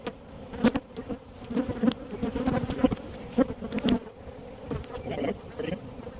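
Honey bees buzz around an open nucleus hive during an inspection, a close, steady droning hum with individual bees swelling past loudly, plus scattered clicks and knocks from handling frames.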